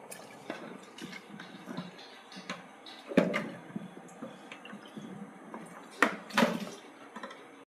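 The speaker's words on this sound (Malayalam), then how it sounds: "നമുക്ക് ജസ്റ്റ് ഇനി ഒന്നെല്ലാം കൂടെ ഇളക്കി കൊടുക്കാം" Spoon stirring ingredients together in a cooking pan, soft scraping and scattered light metallic clinks and knocks, a few louder taps near the end, close and fairly quiet.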